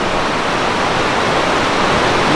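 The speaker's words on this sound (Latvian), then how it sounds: "Visu laiku tev ir tāda ūdenskrituma skaņa." Waterfall near Ben Nevis, a steady, loud, broadband rush of falling water that stays constant and close throughout.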